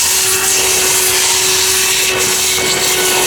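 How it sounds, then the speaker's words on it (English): A handheld vacuum cleaner runs steadily and loudly at close range, sucking dust out of a robot vacuum's emptied bin with its filters removed, a constant whine with slight scraping and rubbing as the nozzle moves inside. "I clean it with a hand vacuum cleaner that I have in the kitchen"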